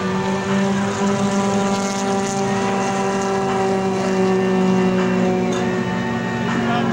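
A steady, droning Allison piston engine of a Curtiss-Wright P-40 Warhawk at an airshow runs continuously at a constant pitch, loud and close, with a rich layered hum.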